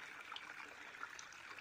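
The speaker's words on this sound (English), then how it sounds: "The water be coming down, screaming through air, hitting this rock." Stream water pouring down through the air and hitting a rock in a river at Dalmorton, NSW, making a steady, fairly faint rushing and splashing that holds evenly throughout with no voices.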